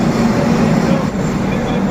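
A steady, loud rumble of a train at a railway station, with people talking throughout in the background.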